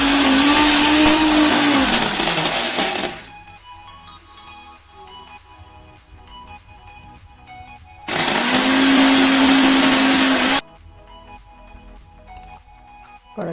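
Blender grinding green peas with a few pieces of ginger, two loud whirring bursts of about three seconds each with a quieter kitchen lull between, close to the microphone.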